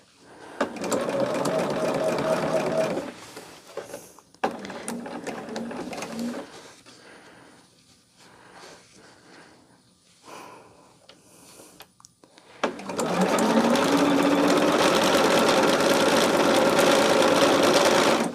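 A sewing machine stitches fabric quilt blocks in long, loud, steady whirring runs broken by a quieter stretch with short bursts and handling noise, then a final extended sewing run.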